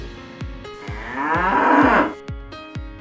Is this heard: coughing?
no